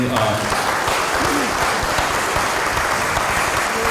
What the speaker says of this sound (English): please join me in giving a round of applause to just all the student teams